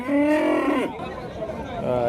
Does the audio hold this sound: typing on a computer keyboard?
no